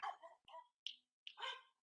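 Quiet indoor dog barking comes as a quick string of short yips and barks, some sharp and high, in an irregular rhythm.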